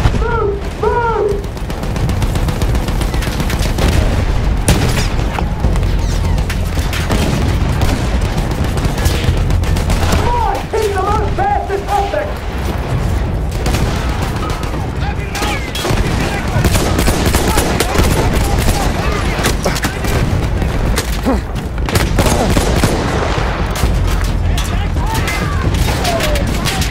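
Dense battlefield combat from Battlefield 1, with rapid rifle and machine-gun fire and heavy booming explosions pounding continuously and loudly, while soldiers shout orders over the din.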